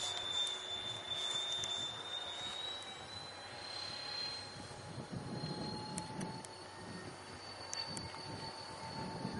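An RC MiG-29 model jet with counter-rotating fans runs at wide open throttle, a steady distant whine with a thin high tone over a broad rushing roar, heard faintly from afar without talking.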